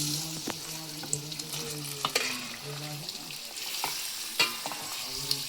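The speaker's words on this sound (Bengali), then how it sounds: "গোশগুলো ঢেলে দেবো, দিয়ে নাড়বো এইভাবে, আস্তে আস্তে নাড়তে থাকবো আমরা এখন।" Meat tipped onto fried onion and garlic crackles in the pan while a utensil stirs it, sharp knocks and scrapes recurring every second or so over a low, steady sizzle, close up.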